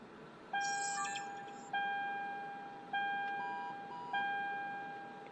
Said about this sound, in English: They're just car beeps.